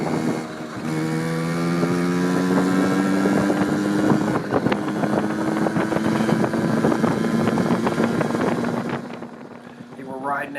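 A 1981 Honda Express NA50 moped engine buzzes steadily while riding through a neighborhood, pitch rising and falling through the gears, close and loud with wind noise, easing off near the end.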